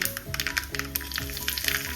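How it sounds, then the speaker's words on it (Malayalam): Mustard seeds and three dried red chilies, split down the middle, sizzle and crackle in hot coconut oil while tempering a Kerala kumbalanga dish, with a steady loud hiss broken by rapid popping bursts. "വെളിച്ചെണ്ണ നന്നായി ചൂടായി വരുമ്പോൾ നമുക്കിതിലേക്ക് 1 ടീസ്പൂൺ കടുക് ചേർക്കാം"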